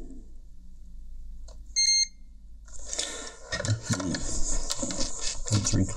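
A multimeter in continuity mode gives a short, loud electronic beep during a Bluetooth headphone repair, followed by rustling and handling noise of probing the wires.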